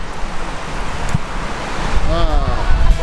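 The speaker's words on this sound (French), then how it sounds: "Là tu vois généralement genre l'eau elle est lisse, elle est plate. Là c'est la tempête quoi." Strong wind buffets the microphone over rough, stormy water surging against the shore, a steady roar that swells louder toward the end; a voice speaks briefly partway through, and a faint warbling tone rises near the close.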